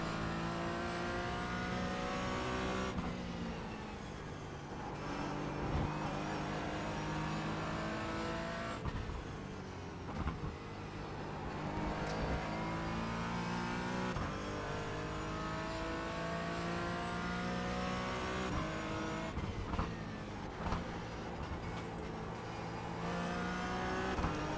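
Porsche Cayman GT4 engine on the throttle around the Brands Hatch circuit, a loud steady onboard drone with rising and falling revs through gear changes and brief lifts, continuous for the whole stretch with no talk.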